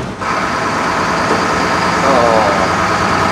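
An AEC Routemaster London bus engine runs with a loud, steady diesel rumble from close by, holding constant throughout with a slight rise toward the end.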